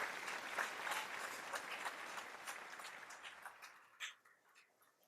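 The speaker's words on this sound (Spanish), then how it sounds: "Dele un aplauso al Señor." A church congregation claps together during a sermon, a dense crackle of applause that thins out toward the end, with one last louder burst before it fades.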